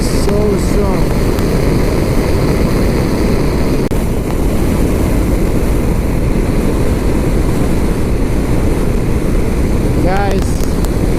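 Heavy, constant wind roar buffets a rider on a 2022 BMW R1250RT motorcycle cruising at 73 mph in a storm, a loud broadband rush with engine drone underneath and no letup.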